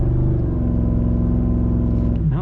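A Ram TRX's engine holds a loud, strained rev on a launch control attempt, a thick droning roar that swoops up and down sharply in the final moments.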